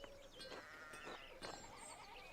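Sheep bleating in the medieval village of the video game Pentiment, several overlapping calls in short bursts over faint ambient game sound, with no talk.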